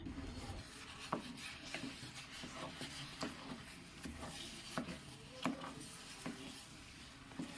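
Thick jackfruit halwa is stirred in a pan with a wooden spoon, giving a steady close-up scraping and rubbing with soft repeated strokes and occasional sharper scrapes, no voices.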